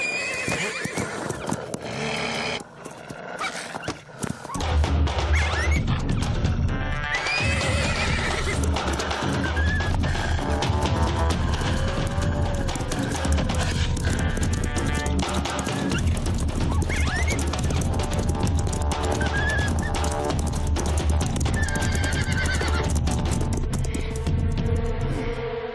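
Cartoon horses gallop with quick clip-clopping hooves and loud, repeated neighs and whinnies over a busy, full soundtrack after a short quieter opening.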